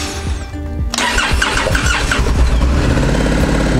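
A Honda Africa Twin CRF 1100 motorcycle engine cranks and fires up after a month sitting in a garage, catching within about a second and settling into a loud, steady, close running note.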